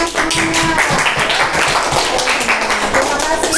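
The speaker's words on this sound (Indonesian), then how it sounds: "Betul semua, kita beri tepuk tangan." A classroom of students breaks into scattered, uneven clapping during a teaching practice session, the claps sharp and fairly close, with a voice and some tonal background noise running underneath.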